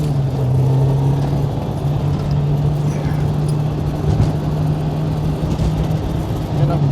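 A car engine in a racing video game played with a JSP BEAMS shifter, holding a steady whine that shifts pitch around a 3-2 downshift, loud and continuous throughout.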